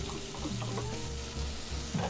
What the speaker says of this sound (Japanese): 少し中火でこう焼くような感じで炒めていきたい。